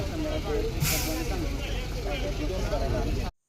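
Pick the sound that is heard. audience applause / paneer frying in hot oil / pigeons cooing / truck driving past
truck driving past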